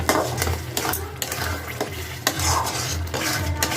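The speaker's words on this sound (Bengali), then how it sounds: "মশলাটাকে দিয়ে এবার ভালো করে নাড়াতে নেব" A spoon scrapes and stirs through tamarind pickle with fried spice mix in a pan, rhythmic close scraping strokes over a soft simmering sizzle.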